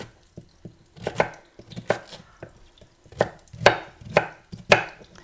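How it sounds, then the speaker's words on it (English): A knife chops a vegetable steadily on a cutting board, sharp irregular thuds coming in small bursts, close and clear with no talking. "And so we'll just chop this up"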